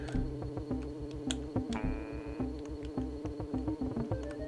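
Buzzing bee enemy in Donkey Kong Country 3's Kremwood Forest, a steady insect drone running beneath busy game music with rhythmic bass and percussion, plus a brief high tonal sweep partway through.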